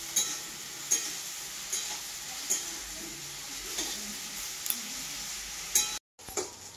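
Eggplant slices sizzle steadily in hot oil in a frying pan, with occasional utensil clicks and stirring taps over the continuous crackle, ending in a brief cut and a short resumption.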